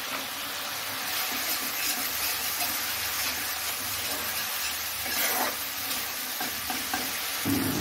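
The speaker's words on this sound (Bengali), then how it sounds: "ঘোলটা আমি তেলে দিয়ে দেব।" A spice paste of turmeric, cumin and chilli powder mixed with water fries in hot oil, giving a steady, fairly quiet crackling sizzle with faint stirring scrapes throughout and no talk.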